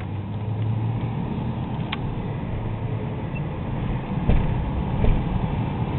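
A 1995 Ford Mustang GT 5.0 convertible drives along with a steady low engine drone and road rumble heard from inside the car, swelling slightly in a couple of spots, with no talking.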